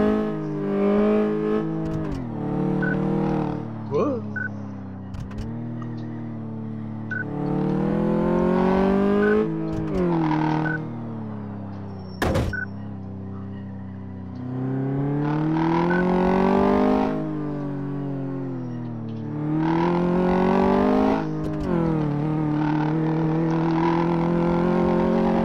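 A car driven hard in Car Mechanic Simulator 2014, the engine revving up and down repeatedly through gears in several long surging pulls, loud and close with no talking.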